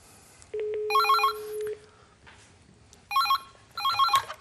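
An old telephone bell rings in two-tone trilling bursts, loud and close, with a steady electronic tone before the first ring and pauses between rings.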